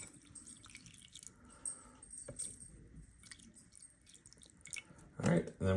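Distilled white vinegar is poured over a computer card from an Amiga 500, giving a faint, quiet trickle and scattered drips and taps, with a louder clatter at the end.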